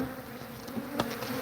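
Honeybees buzz around a poly plastic hive, a close, steady droning hum from many insects, with one bee passing right near the microphone.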